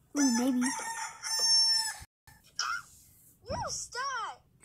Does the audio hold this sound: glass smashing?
no